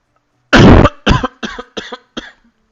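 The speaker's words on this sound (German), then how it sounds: "Scheiß Husten." A man gaming at his computer coughs hard and close, one long harsh cough followed by four shorter hacking coughs in quick succession, then silence.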